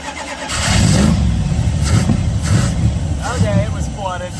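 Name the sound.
1979 Chrysler 300 engine cranking and starting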